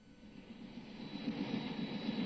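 Steady engine drone of a helicopter carrying a television camera above the 1959 Tour de France, a continuous low throbbing roar that swells slightly louder as it goes, with no voices.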